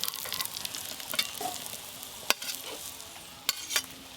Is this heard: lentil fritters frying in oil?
yes